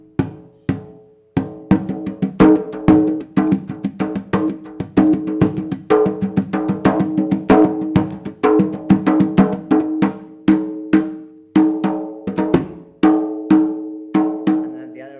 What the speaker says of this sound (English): they made candombe it's a particular sound that you can see many people with drums walking in the streets